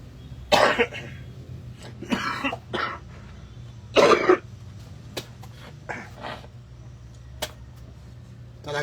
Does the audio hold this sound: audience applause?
no